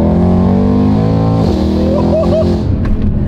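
Mercedes C63 four-door saloon engine revving hard, a loud, close roar with strong harmonic tones that dips briefly and climbs again in pitch, steady and unbroken throughout.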